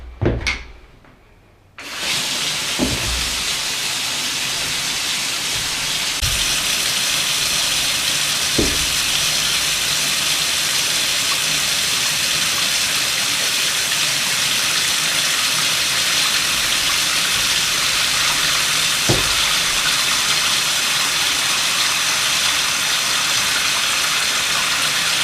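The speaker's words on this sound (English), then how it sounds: "There is a plug in and I'm just adding 1 inch of water." Water gushes steadily into a tub in a constant rushing hiss, with a few faint knocks.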